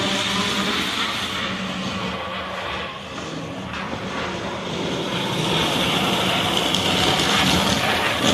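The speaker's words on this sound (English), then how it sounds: "we'll run it just as a country train, and seems to be running quite fast with just one passenger coach" Small 009 or HO scale model train pulling a single passenger coach around a layout, a continuous close rumbling whir of wheels and motor that grows slightly louder toward the end, with no talk.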